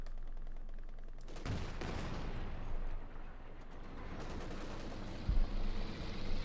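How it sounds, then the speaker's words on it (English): A Pershing tank's 90mm gun firing in Company of Heroes 2, with heavy booming blasts and rumbling artillery-like impacts, two strong reports standing out over continuous battlefield gunfire. "Pershing bombarding away there with his 90mm gun"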